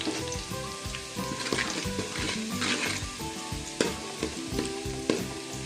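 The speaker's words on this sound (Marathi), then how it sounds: "तर गोल्डन ब्राऊन हा कांदा आता झालेला आहे" Chopped onion with turmeric sizzles steadily in a pan for a crab curry, with scraping stirs and occasional sharp clinks of a spoon against the metal, close and continuous with no voices.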